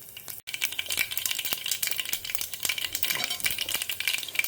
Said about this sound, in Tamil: இப்போ நான் கடுகு போட்டுக்கிறேன், வெந்தயம்